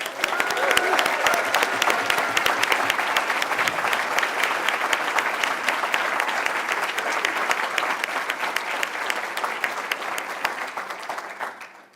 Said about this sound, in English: maybe we can do a round of applause for all of the shortlisted authors